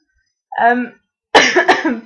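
A short throat-clearing sound, then a louder, harsher cough close by, with silence around them.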